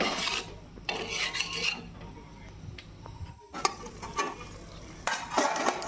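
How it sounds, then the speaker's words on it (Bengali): Spice masala for an egg and potato curry being stirred and fried in a pan, rough scraping strokes of a spatula against the pan over a low sizzle, coming in uneven bursts at close range. "এবারে এই মশলাটা সুন্দরভাবে কষতে থাকবো যতক্ষণ না পর্যন্ত এ থেকে তেল বের হয়"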